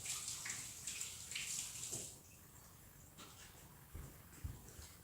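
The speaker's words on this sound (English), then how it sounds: "A little bit of soap and water. Make sure our hands are clean." Running tap water while hands are washed with soap, a steady soft splashing that is loudest at the start and then settles into a quieter, even flow.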